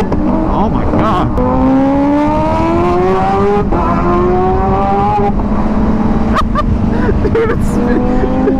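A motorcycle engine revs hard and loud up close, its pitch climbing in long sweeps over a steady rumble, with people talking over it.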